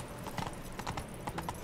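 Horse hooves clip-clop on the ground in The Witcher 3, a short run of a few distinct, moderately loud steps with a loose walking rhythm and no talk over them.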